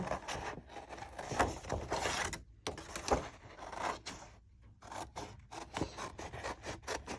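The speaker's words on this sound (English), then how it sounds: "You don't really turn your scissors as much as you turn the paper." Scissors snip and slice through paper in repeated crisp strokes, close up, with brief pauses between cuts and no talking.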